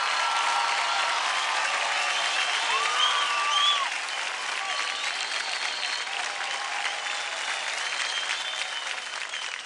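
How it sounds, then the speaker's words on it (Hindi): Studio audience applauding after a dance duo's performance on a televised dance competition, a bright, dense wash of clapping that is loud at first and eases slightly but keeps going, with voices faintly mixed in. "जोरदार तालियां हो जाए पृथ्वी और विवेक"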